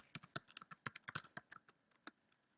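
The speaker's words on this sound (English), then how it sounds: "I just type in John Steinbeck" Quick bursts of close keystrokes on a computer keyboard, about two dozen crisp clicks in an uneven run over a couple of seconds, fairly quiet and with no talk.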